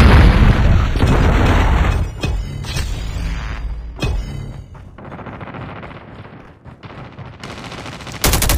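A Predator missile strike lands in an online shooter match as a loud, booming blast, with gunfire crackling around it and the explosion rumbling off into a quieter tail.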